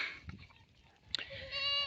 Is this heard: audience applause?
no